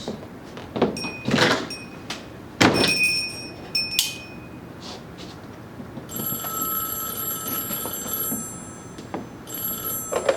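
An old telephone bell rings in bursts within a 1940s bank office setting, mixed with door and room clatter, the bright trilling rings recurring near and fairly loud.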